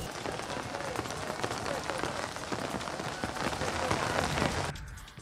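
Rain pours down during a thunderstorm in Maval, a dense, even patter on surfaces that swells slightly, then stops abruptly.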